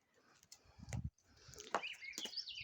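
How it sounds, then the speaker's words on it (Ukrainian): Birds singing outdoors on a mild spring day with patches of snow: a few faint, scattered chirps and tweets, quiet and somewhat distant, with soft rustling in between. "Чарівно надзвичайно пташки співають."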